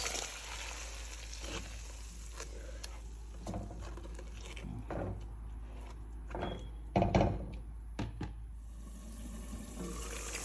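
Onions and tomatoes frying in a pan for a spinach and melon seed (agushi) palava stew, a steady soft sizzle with occasional stirring clinks and a louder clatter near the end.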